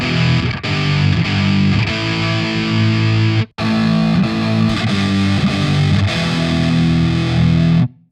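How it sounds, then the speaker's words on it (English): Loud, heavily distorted power chords from a Shreddage 3 Stratus Kontakt virtual electric guitar ring out in two long sustained bursts, separated by a brief pause, with no voices. "so if we just play simple power chords"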